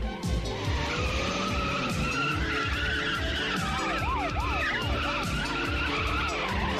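Tires skid and squeal repeatedly in a loud car-chase sound effect from a 1986 film, rising and falling screeches over rumbling engines with no talk.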